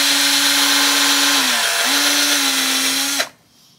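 A power drill bores through cork with progressively larger bits while reworking an archtop guitar neck: a loud, continuous motor whine that dips briefly in pitch under load, then cuts off sharply near the end.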